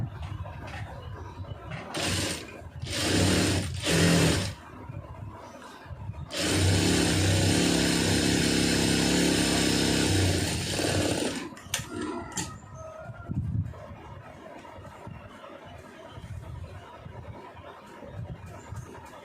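A sewing machine stitching a lining blouse runs in short bursts, then in one long steady whirring run, close and loud, with fabric handling between runs and no talking.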